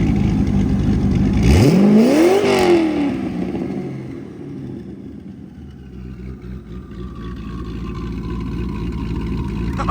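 A twin-turbo Corvette Z06 engine revs hard, pitch climbing then falling, and settles into a lower idle with a faint turbo whine as it spools down, close and loud.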